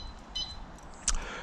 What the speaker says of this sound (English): 2 beeps and it's cancelled it.